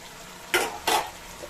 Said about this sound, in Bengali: এবারে আমি মাথাটা মাছে মিশিয়ে দিচ্ছি